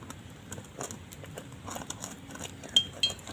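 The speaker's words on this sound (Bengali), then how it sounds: "আরও একবার ভালো করে ফেটিয়ে নিচ্ছি" Ripe mango batter being whisked in a bowl, giving a steady faint scraping with light clinks against the bowl's side, then two sharper metallic taps near the end.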